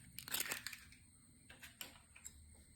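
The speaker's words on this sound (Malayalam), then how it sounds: "അതിലേക്ക് നമുക്ക് കോഴിമുട്ട പൊട്ടിച്ചൊഴിക്കാം." A hen's egg is cracked into a bowl of gram flour (besan): a quiet cluster of crisp cracking and crunching snaps, then a few softer taps and crackles, close by with no talk.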